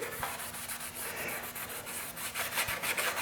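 Motorcycle body part being scuffed by hand to knock off leftover gloss before paint, a steady close abrasive rubbing that runs continuously with no talk.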